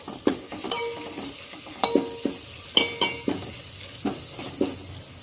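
A biryani mix with eggplant, mint and coriander is stirred in a pot with a spoon, giving repeated scraping clinks in an uneven rhythm over a soft, steady sizzle, close by.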